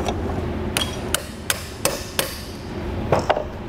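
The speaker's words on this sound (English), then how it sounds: "what we're going to do is just use a punch. 5/32 of an inch is the size, and we'll get that driven through." Sharp metallic hammer blows drive a 5/32 inch punch through the gear pin of a sidewind trailer jack, about eight steady taps spaced roughly every third of a second, close and clear over a low background hum.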